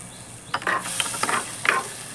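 Spoon scraping and stirring cauliflower curry with fresh green peas, chilli powder and coriander powder in a pan, a few short scrapes and clinks close up with a faint sizzle beneath, no talking.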